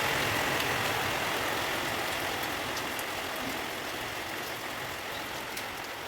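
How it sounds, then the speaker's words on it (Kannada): Steady early-morning rainfall on a village building site, a continuous broadband hiss that fades slightly over time, with a faint low rumble beneath and no voices. "ಸೊ ಮಳೆ ಕೂಡ ಬರ್ತಾ ಇದೆ"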